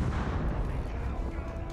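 Gunfire and heavy booms in the Middle-earth: Shadow of War video game, a dense burst of blasts and rumble lasting under two seconds with no clear voices.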